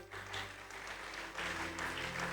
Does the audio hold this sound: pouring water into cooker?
no